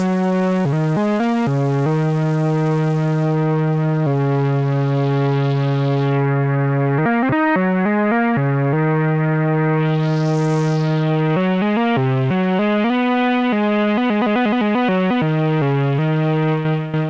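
An Arturia MicroFreak synthesizer on firmware 3.0 plays a gritty, distorted FM-style sequence of sustained and stepping notes, with a filter-sweep whoosh partway through, loud and continuous without any talking.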